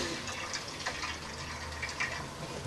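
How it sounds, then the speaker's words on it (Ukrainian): Water drains from a household pipe where a gas meter has been removed, a faint, continuous splashing trickle into a container that stays steady throughout with no talk. "Тут теж демонтували газовий лічильник і зливають воду із труби, яка до нього підведена."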